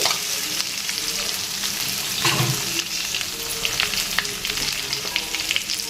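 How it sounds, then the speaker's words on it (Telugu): Boiled, cut potato pieces fry in an oily pan, a loud continuous sizzle with crackling bursts and stirring scrapes close by, and no one speaking. "ఇప్పుడు బంగాళదుంపలు వేసుకోవాలి మనం ముందుగా బాయిల్ చేసుకొని స్టోన్ తీసుకొని ముక్కలుగా కోసుకున్న బంగాళదుంపలు వేసుకోవాలి"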